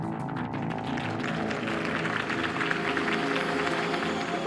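Applause from a crowd at a political campaign rally for Harvey Dent in a Batman video game, a steady dense wash of clapping and cheering that holds throughout with a murmur of voices mixed in.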